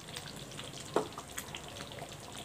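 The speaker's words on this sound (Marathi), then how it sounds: "भाजीला छान अशी उकळी आलेली आहे." Stuffed bitter gourd masala curry simmers in a pan with a faint, steady bubbling and soft watery crackle, plus one small louder pop partway through, with no talking.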